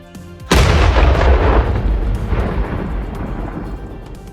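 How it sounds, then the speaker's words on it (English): A single heavy artillery blast from shells and cluster bombs in wartime combat: a sudden loud boom with a long, rumbling decay that rolls on for several seconds. "Artillery fire grows stronger as standard shells and cluster bombs fall from above"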